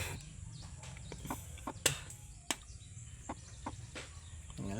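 A pet hen makes soft, scattered clucks close by in a quiet setting, with a few sharper notes spread across the stretch.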